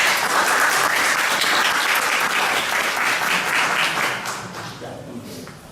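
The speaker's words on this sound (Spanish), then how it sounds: "Vamos a recibirlo con un fuerte aplauso." An audience at an evening literature doctoral student colloquium applauds loudly and steadily for a guest, the clapping dense and sustained before thinning out near the end.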